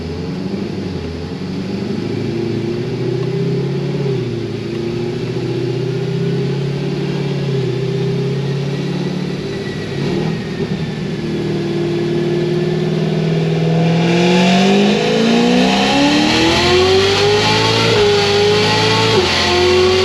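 Cadillac CTS-V with headers, Big Gulp intake and tune, engine revving hard in third gear. A loud, steady drone climbs in pitch through a long pull, rising sharply near the end, with no talk over it.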